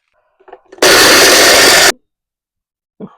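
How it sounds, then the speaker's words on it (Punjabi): An electric grinder whirs loudly for about a second, pulverizing lightly toasted garam masala spices for a sweet-and-sour cauliflower, carrot and turnip pickle; a single close burst with brief faint handling sounds before and after. "ਹੁਣ ਅਸੀਂ ਗਰਮ ਮਸਾਲਾ ਗ੍ਰਾਈਂਡ ਕਰ ਲਿਆ ਆ"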